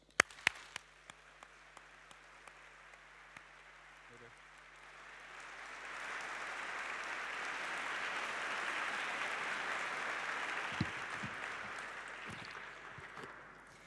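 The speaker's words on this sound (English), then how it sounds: "warm round of applause." Audience applause at a university conferment ceremony installing new professors, a broad steady clapping wash that swells in after a few sharp claps and sustains for several seconds in a large hall.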